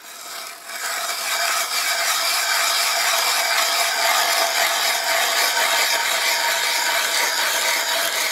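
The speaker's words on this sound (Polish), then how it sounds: "pomału wiercę" Hand ice auger boring slowly through lake ice for winter fishing near the shore, a continuous loud grinding scrape that starts up and then holds steady and close.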